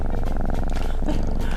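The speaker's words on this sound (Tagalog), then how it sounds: "tingnan mo si Muning. Nagpo-purr siya." A pet cat purring while being fed Whiskas, a close, loud, continuous rumbling purr with a steady fast pulse throughout.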